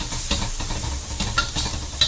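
Shrimp fried rice being stirred and scooped in a hot pan, a steady close sizzle broken by scraping strokes of the utensil with no voices.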